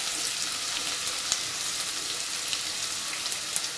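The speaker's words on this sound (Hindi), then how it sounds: "हम डालेंगे ये अनियन, सबको अच्छे से फ्राई कर लेंगे। हमें फ्लेम लो रखना है अभी क्योंकि हमारा तेल अच्छे से गर्म हो चुका है।" Onions frying in hot oil over a low flame for palak paneer make a steady, hissing sizzle with scattered small pops, heard alone at a moderate level throughout.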